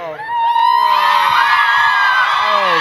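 A live convention panel audience cheers, whoops and yells loudly and without a break, a dense crowd roar with high shouts rising over it.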